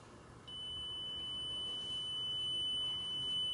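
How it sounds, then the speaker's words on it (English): A single steady high-pitched electronic beep tone from an acupoint locator probe begins after a brief moment and holds continuously over a quiet background hiss. "along with the audible beep tone, are used only to assist in locating the proper points"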